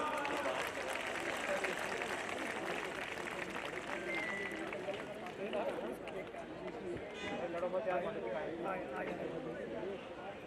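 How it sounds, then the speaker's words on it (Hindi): A crowd at a government welcome ceremony claps steadily, a continuous rattle of applause lasting around ten seconds beneath a speaker on a PA system. "जोरदार तालियां"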